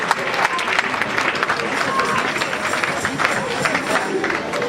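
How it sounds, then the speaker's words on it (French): A church congregation at a women's convention in Liège, Belgium, applauds and cheers in a dense, steady wash of clapping and voices that holds loud and unbroken throughout. "On acclame la parole."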